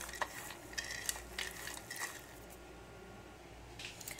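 Chopped dry fruits stirred together in a bowl, giving soft scraping and light clinking of a spoon against the dish, with brief brighter knocks early on and then a quieter, steady rustle toward the end.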